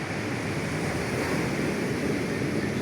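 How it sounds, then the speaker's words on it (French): Steady roar of ocean surf breaking on a stormy Guadeloupe shore, a continuous broad wash with wind noise over the microphone, no pauses between waves in this short stretch. "Des vagues que j'adore."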